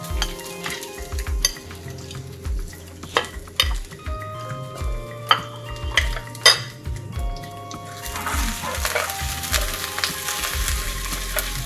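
Garlic and ginger frying in a pan for a South Indian rasam, with steady sizzle under repeated scrapes, clinks and stirring knocks of a utensil against the pan, close and moderately loud.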